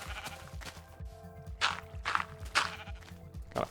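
Sheep in the video game Minecraft bleating several times in quick succession, a series of clear, moderately loud wavering cries close by, alone with no talk.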